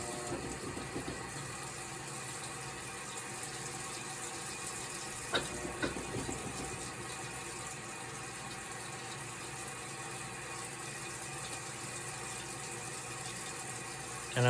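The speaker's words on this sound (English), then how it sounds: "I will show you how much water goes in" Water runs steadily into a Whirlpool washing machine during a curtain wash, a continuous even rush of inflow with a pump-like hum that lasts throughout, plus a brief knock partway through.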